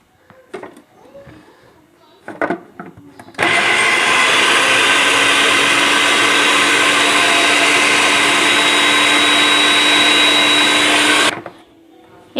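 An electric food chopper whirs through green chili paste for a Peshawari chapli kabab, a loud, steady motor drone running about eight seconds after brief handling noises, then cutting off abruptly.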